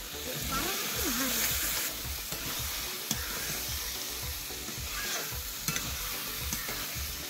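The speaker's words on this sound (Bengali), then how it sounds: "ভালো করে তরকারিটা আমি কষিয়ে নিব" Boiled vegetables are sautéed in spice masala for ghugni made with dried peas, with a steady sizzle under repeated stirring scrapes and brief faint voice sounds near the start.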